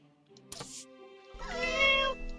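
A cat meows in the farming game My Time at Portia, a single clear, drawn-out meow rising at the end, heard alone over quiet game ambience.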